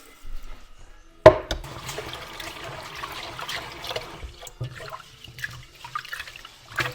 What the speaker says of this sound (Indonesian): aku masak berasnya segini dan aku akan cuci dulu